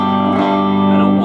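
Electric guitar played through a Roland GA 212 amplifier with the mid boost engaged and reverb on, a single sustained distorted chord ringing loud and alone for about a second.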